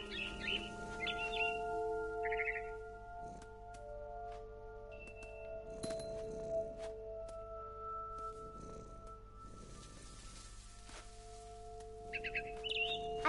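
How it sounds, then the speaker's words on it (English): Barn swallow chirps in the game What Remains of Edith Finch, scattered short tweets and trills over steady tonal ambient music, with occasional soft clicks and knocks. "I heard chirping outside my window. It was a barn swallow going back to her nest."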